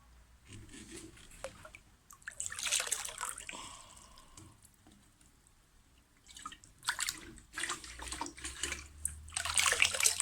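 Water being poured into a garden pond along with guppies and water fleas, splashing and trickling in several bursts with quiet gaps between, close and fairly loud.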